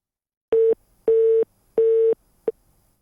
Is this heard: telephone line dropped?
yes